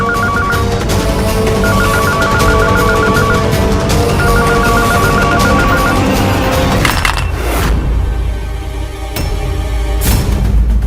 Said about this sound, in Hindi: अभी तो रिंग जा रही थी, एकदम से फोन कट कैसे गया?